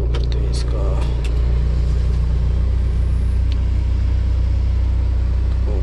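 A 2004 Mahindra Scorpio's engine idles steadily up close, a deep continuous low rumble with a slight rise in revs partway through, while a person talks over it.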